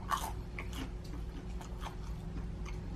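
TGI Fridays mozzarella sticks bitten into with a sharp crunch of breading, then steady close-up chewing with soft, wet, repeated mastication over a low background hum.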